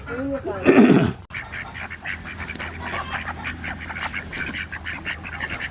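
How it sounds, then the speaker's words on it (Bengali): Ducks kept on a farm quack in a loud burst at the start, then a busy mix of fowl calls and ambient noise continues with people talking nearby. "এখানে হাঁস আছে"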